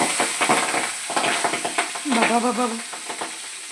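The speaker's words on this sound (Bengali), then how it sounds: "এখানে কড়াই গরম, তেল হয়ে গেছে। তো মাছগুলো ভাজি চলো।" Jiol fish fry in hot oil in a wok with a steady crackling sizzle and stirring, close and lively, while a voice calls out briefly over it.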